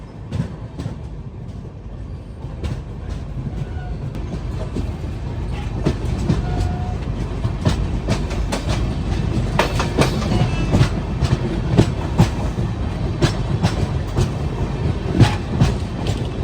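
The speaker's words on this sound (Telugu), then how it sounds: "మన ట్రైన్ స్టేషన్ నుంచి ఇలా బయటకు వస్తుంది" North East Express with ICF coaches pulling out of New Jalpaiguri station, starting quiet and building into a steady, loud rhythmic clickety-clack of wheels over rail joints with the rumble of the moving carriages.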